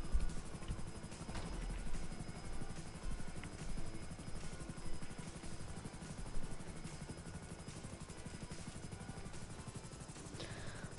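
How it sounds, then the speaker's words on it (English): Helicopter rotor chop from GTA Online during a V.I.P. mission, a steady rhythmic thumping drone with engine buzz that holds loud and close throughout, with no voices over it. "This helicopter can go die."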